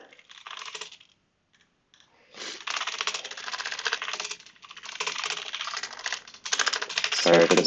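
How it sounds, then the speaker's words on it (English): Loud, fast clattering of a computer keyboard, close to the microphone, in dense bursts of keystrokes separated by brief pauses, with no talking. "Sorry for the super loud typing."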